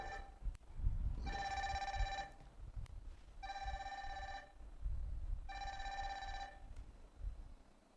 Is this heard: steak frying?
no